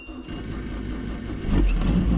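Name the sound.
drag race car engine starting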